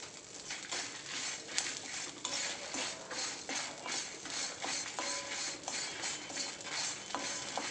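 Tamarind, dried chillies, garlic and salt being roasted in a pan for sesame thuvaiyal, with a steady soft sizzle and repeated scraping and clinking of a spoon stirring against the metal pan, close and continuous.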